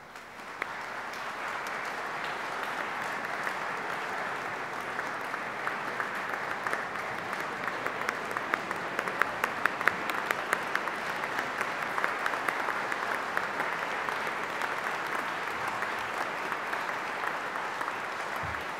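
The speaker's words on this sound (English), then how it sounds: "and to give them a round of applause." Long, sustained applause from a graduation ceremony audience honoring family, friends and lecturers, a dense, even crowd clapping that holds steady throughout with scattered louder claps.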